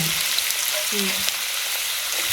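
Diced potatoes with matar dal, bay leaf and a cumin tempering sizzle steadily in hot oil in a home kitchen, a close, continuous frying hiss with faint stirring touches.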